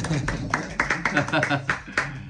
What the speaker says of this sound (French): On peut applaudir les textes et les interprétations.